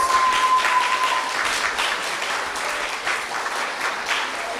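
An audience at a women's congress symposium applauds steadily, a broad wash of clapping that is loud at first and then eases slightly while continuing throughout.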